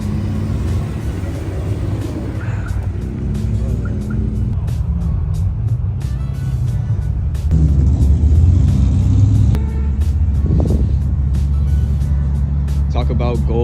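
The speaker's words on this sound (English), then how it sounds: "You guys will see a few of the cars rolling in" Cars roll into a Cars and Coffee meet in Houston with a low, steady engine rumble that swells briefly as one passes close. Someone talks over it throughout.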